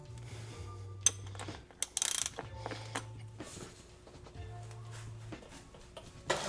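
A ratchet clicks in quick rhythmic runs while a drain or filter fitting is tightened during an oil change on a 2003 Porsche 911 Carrera, close and fairly quiet, with small metallic taps between the strokes.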